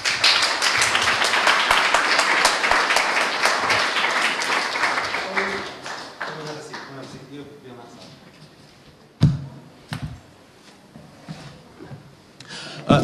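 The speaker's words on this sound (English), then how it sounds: "help me give a warm round of applause." Audience applause greets a guest at a film talk event, dense and loud clapping for about six seconds before fading into a few scattered claps and small taps.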